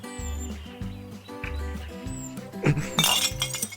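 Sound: glass bottle neck thrown into glass recycling container

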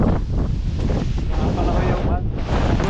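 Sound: wind and sea waves at a white sand beach

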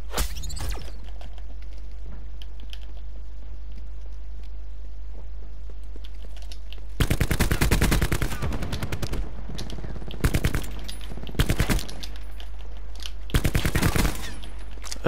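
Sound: gunfire in video game Call of Duty Black Ops 4

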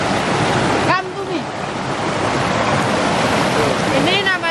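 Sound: waterfall on Mount Gede

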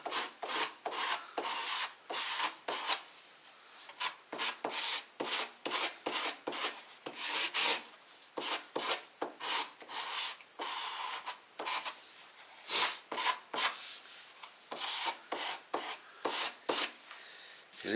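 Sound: sanding melamine furniture edge with 120 or 220 grit sandpaper

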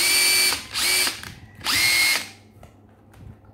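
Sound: Makita cordless drill running on 18V battery

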